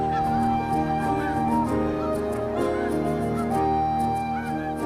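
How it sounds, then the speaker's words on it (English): A dense flock of Arctic geese honks continuously in the wild at Bosque del Apache, New Mexico, in autumn or winter, many overlapping calls near and far under a steady crowd of bird noise. "Tens of thousands of birds, including sandhill cranes, Arctic geese, and many kinds of ducks, gather each autumn and stay through the winter."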